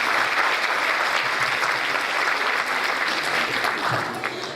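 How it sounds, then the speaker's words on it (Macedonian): A hall audience at a New Year concert of the Magija ballet studio breaks into steady, dense applause that holds at full strength for several seconds before easing slightly at the end. "Ќе го молам на аплауз."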